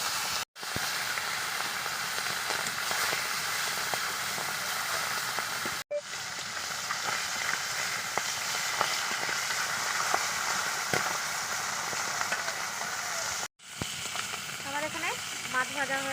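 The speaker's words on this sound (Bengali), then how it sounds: "তেল গরম হয়ে গেছে আমি মাছ ভেজে নেব" Tilapia rubbed with salt and turmeric fries in hot oil, giving a steady loud sizzle and hiss that runs almost without a break. The crackle stops sharply twice, probably when the pan is handled, and a faint voice briefly comes through near the end.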